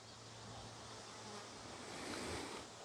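Honey bees hum at an apiary, a faint, steady outdoor buzz that carries on without a break, mixed with soft wind noise.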